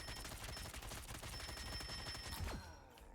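Rocket's rapid automatic gunfire pours into Groot in the Marvel Rivals video game, a dense, continuous stream of shots that cuts off after about two and a half seconds.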